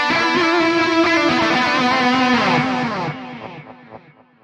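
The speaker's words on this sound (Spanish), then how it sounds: "Tenemos un pedal de delay y un pedal de reverb." An electric guitar through a Neural DSP Mesa Boogie Mark IIC+ plugin with a delay pedal plays a sustained high-gain chord whose echoes repeat and decay over about four seconds, loud and alone.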